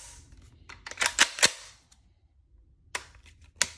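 A Century Arms AP5-P pistol, an MP5K clone, gives sharp mechanical clicks as its trigger breaks and resets, in a small cluster of close snaps followed by two isolated clicks after a pause.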